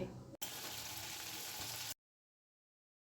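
Tomato pieces sizzle steadily in a pan, the frying noise loud and continuous for about a second and a half before cutting off abruptly into silence.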